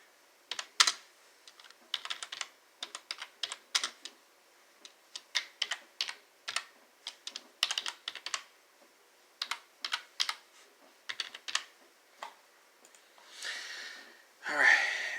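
Rapid bursts of typing on a computer keyboard, clicks coming in uneven clusters with short pauses between them, fairly close, with a breathy sound at the end.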